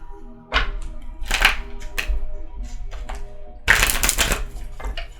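Brisk riffling bursts of a deck of tarot cards being shuffled, two longer flurries with scattered taps and clacks between, close and fairly loud.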